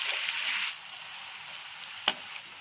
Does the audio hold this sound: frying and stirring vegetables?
yes